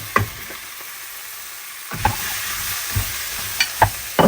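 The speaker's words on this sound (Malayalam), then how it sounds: "അതിലേക്ക് നമ്മുടെ വെജിറ്റബിൾസ് ആഡ് ചെയ്തുകൊണ്ടിരിക്കുന്നു" Vegetables tumble into a sizzling pan of chicken stew, with a steady frying hiss underneath and several distinct stirring scrapes and clatters spaced out across the few seconds.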